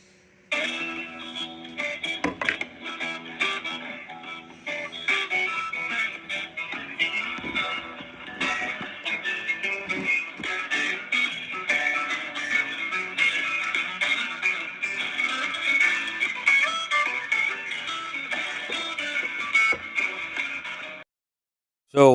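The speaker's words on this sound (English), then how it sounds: "This is normally what it sounds like when the police put you on hold." Hold music from a police phone line plays steadily for about twenty seconds, a dense continuous tonal sound with a compressed, telephone-like quality, then stops abruptly near the end.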